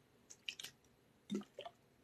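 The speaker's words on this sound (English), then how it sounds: "So I'm gonna shake this up just a little bit." Tea leaves and water shaken in a small brewing vessel while making a 2014 spring Yunnan tea: a few soft, wet sloshes and splashes in two short bursts, close and quiet, with no talk.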